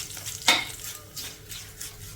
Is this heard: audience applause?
no